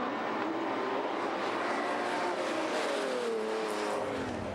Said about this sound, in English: 6-cylinder BMW 325. And the bellowing 8-cylinder M3 GTR replica.